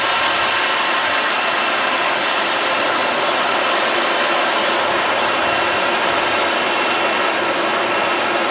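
Eurowings airliner arriving from Dusseldorf at Manchester Airport, a steady broadband jet engine roar holding level throughout, moderately close with no talk over it.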